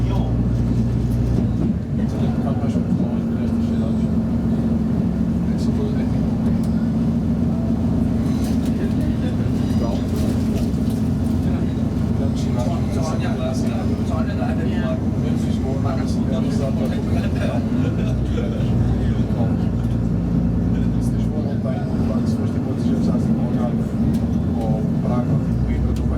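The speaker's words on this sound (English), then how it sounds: "Welcome to this Transpennine Express service to Scarborough, calling at York, Malton, Seaman and Scarborough." A TransPennine Express train bound for Scarborough pulls out of York station. From inside, a steady low rumble and hum continue for the whole stretch, with voices faintly audible over the running noise.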